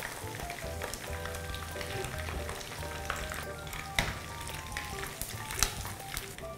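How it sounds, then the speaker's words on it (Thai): Shrimp deep-fry in hot oil until golden, a dense steady crackling sizzle with scattered pops and small clicks, close and without speech. "ราจะทอดต่อไปเรื่อยๆจนกลายเป็นสีเหลืองทองนะคะ"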